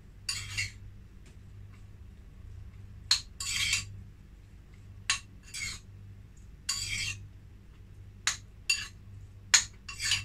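Prawns being mixed with soy sauce in a pan, giving scattered clinks and scrapes of utensil on metal in short irregular bursts over a low steady hum.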